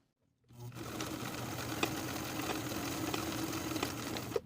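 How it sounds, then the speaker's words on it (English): A sewing machine top-stitches along the bottom edge of a pocket flap, starting after a brief silence and then whirring steadily at close range with a few small clicks, with no talking. "I'm going to top stitch along that bottom edge, securing that flap in place"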